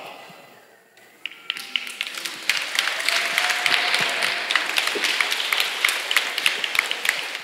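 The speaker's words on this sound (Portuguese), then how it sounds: "Metade já não aplaudiu mais." An audience at a church sermon breaks into applause that swells quickly, then settles into a steady patter of many hands clapping, with no talking over it.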